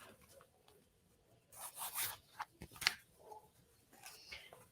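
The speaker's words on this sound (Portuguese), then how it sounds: "Aí aqui eu vou abrir um zíper" A zipper opens along a fabric pencil case in a quick rasping pull followed by a few short tugs and rubs, close and fairly quiet.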